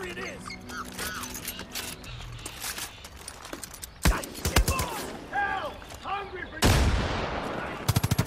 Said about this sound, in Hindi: machine gun